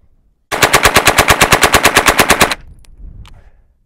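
WW2-era PPS43-52 submachine gun fires one loud, rapid burst of about twenty shots lasting two seconds, then cuts off abruptly on a misfeed, followed by faint rattling and handling noise.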